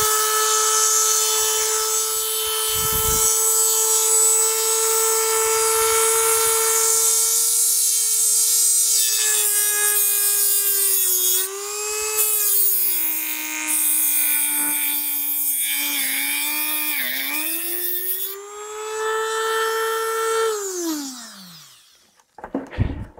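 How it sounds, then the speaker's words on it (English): A Dremel fitted with a large cutoff wheel grinds into a glass bulb in a long, loud, high-pitched whine that shifts pitch as the wheel bites and bogs, then winds down sharply at the end. "I like using a Dremel with a large cutoff wheel. It's a nice tool for doing this operation."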